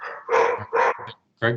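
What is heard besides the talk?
dog barking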